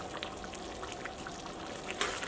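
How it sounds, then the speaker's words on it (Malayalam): A pan of lubikka pickle with vinegar boiling on the stove, giving a soft steady bubbling and popping hiss, faint and close, with no talking. "അച്ചാർ നന്നായിട്ട് തിളച്ചിട്ടുണ്ട്"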